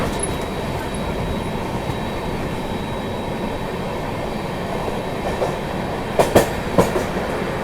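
The Brahmaputra Mail passenger train rolling along the tracks outside DDU, with a steady rumble of carriages and wheels and a few sharp clacks near the end, no talk.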